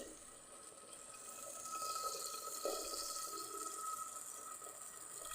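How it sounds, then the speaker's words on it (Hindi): Hot water pours into a pot of already boiled chickpeas, a steady soft hiss and trickle of liquid lasting several seconds, faint and even with no talk over it. "अब हम इसमें जो पानी हमने ये गर्म करके रखा हुआ है ये ऐड करेंगे।"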